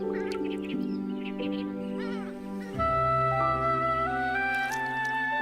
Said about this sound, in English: the most eye-catching are the purple swamp hens